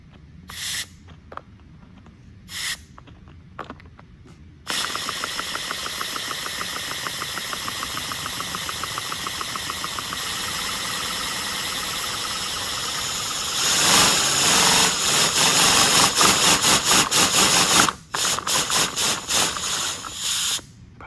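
An inline four model engine runs on compressed air from a compressor, giving rapid hissing puffs in a steady chuffing rhythm that grows louder and faster near the end, with brief bursts of air before it settles into running.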